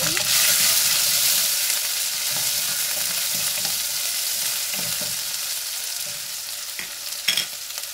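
Chopped onion and jimbu sizzle in hot oil in a pan, a dense, bright, continuous crackle that holds steady throughout, with a few soft scrapes of stirring near the end.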